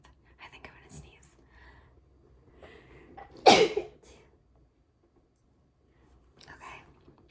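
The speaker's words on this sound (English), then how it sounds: "Sorry about my sneeze. That was kind of loud for an ASMR video." A single loud, close sneeze bursts out sharply in a quiet room, flanked by soft whispering and faint breathy sounds before and after.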